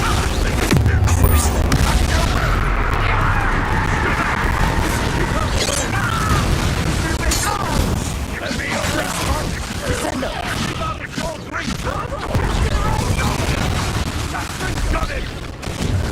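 A Confringo fire-blast spell in the Hogwarts Legacy video game goes off amid battle, with heavy booms, crashes and rapid bursts layered over dense combat noise, while voices talk throughout.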